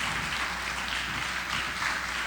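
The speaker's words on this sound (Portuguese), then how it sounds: "Você pode aplaudir o Senhor, amém, amados?" A church congregation claps together in a continuous, moderately loud wash of applause for a couple of seconds, with no speech on top.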